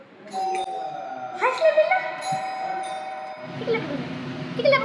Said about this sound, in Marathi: हा वाजव बरं टिंग टॉंग.